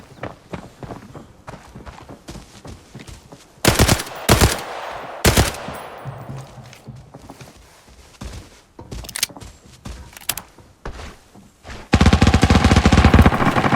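Rapid bursts of automatic gunfire crack loudly in repeated volleys in the video game Arena Breakout, separated by quieter stretches of shuffling and reload clicks, ending in a sustained heavy barrage.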